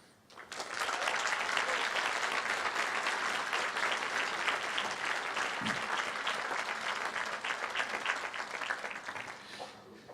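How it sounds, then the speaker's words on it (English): Sustained applause from a large commencement audience thanking graduates' family members, a dense steady roar of many hands clapping that swells quickly and holds loud for about ten seconds, tapering slightly at the end. "Clapping is one thing."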